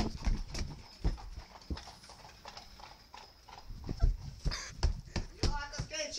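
Several horses walk with hooves clip-clopping in an uneven rhythm close by, while a dog whimpers and barks now and then and people talk over the hoofbeats.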